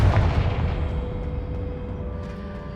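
Blasting-spell explosions in the video game Hogwarts Legacy, a heavy booming burst at the start that rumbles and decays over a few seconds.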